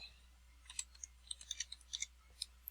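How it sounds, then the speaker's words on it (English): Light, scattered clicks of keys being tapped, irregular and fairly quiet, with short pauses between bursts. "Oh, I'm typing and not getting anywhere."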